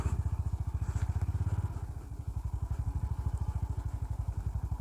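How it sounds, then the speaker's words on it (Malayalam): A motorcycle engine thumps close by in a fast, even pulse that stays loud and steady throughout, with no speech. "ബൈക്ക്"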